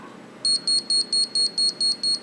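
An Arduino timer with a new LCD screen sets off its alarm: eight loud, evenly spaced electronic beeps in a steady pulsing rhythm, close by over a quiet room hum.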